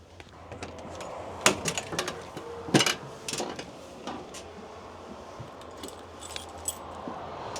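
Keys jangle and clink in several short bursts against a quiet background, with faint metallic rattles scattered through the middle and later moments, near and moderately loud.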